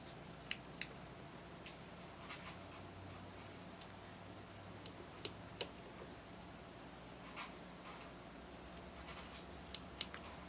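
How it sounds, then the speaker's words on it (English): Scissors trimming the fabric seam allowance of the darts on a small handmade dragon plush, heard as a scattering of faint, sharp snips spaced irregularly over a quiet room background. "trim a little bit of this seam allowance out of these"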